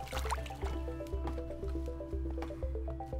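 Running water in the video game Minecraft makes a looping, bubbly trickle with a regular pulsing rhythm, close and steady with no talking.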